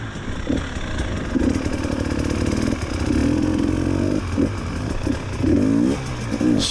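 A KTM TPI two-stroke enduro motorcycle revs hard in a wooded field with logs, its buzzy engine rising and falling in repeated short bursts. It sounds loud and close, with no talking.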